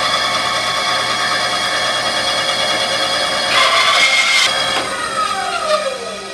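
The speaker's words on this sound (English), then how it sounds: "what I'm going to do is put this on the bandsaw" A bandsaw hums steadily with a constant whine, then bites into a wood piece holding plugs, the pitch shifting briefly as the blade cuts through before it winds down.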